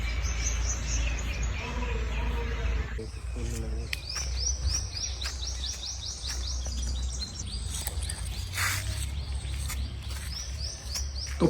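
Small birds chirp and tweet repeatedly in quick bright bursts around a green, tree-filled meditation ashram, several calls overlapping against a steady low outdoor hum.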